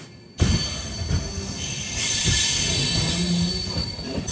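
An Amrit Bharat Express push-pull train running near Thiruvananthapuram North gives steady wheel rumble and rattling, with squealing wheels and a droning hum, close and continuous.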